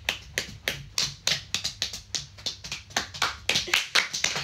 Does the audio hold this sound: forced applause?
yes